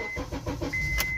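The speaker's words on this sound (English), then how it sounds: "just restart the car and then it restarts again" A 2007 Honda CR-V engine restarts after stalling, a short cranking catch settling into a steady close running hum, with no talk.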